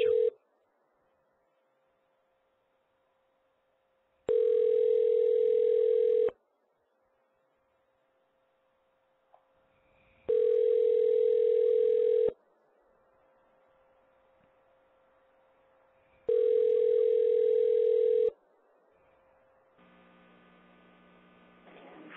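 A phone call rings out unanswered over a telephone line, with about three long, loud steady ring tones repeating in an even cadence separated by quiet gaps of faint line hum, ending as a recorded answer begins.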